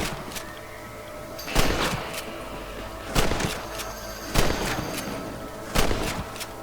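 Rifle shots from the Western video game Red Dead Redemption, four sharp loud cracks at irregular intervals over quiet ambient game sound.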